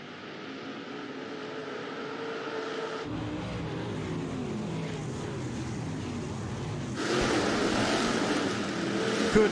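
Stock cars race around a dirt track at night, engines droning and roaring from a distance, with the sound surging louder in abrupt steps as cars pass nearer.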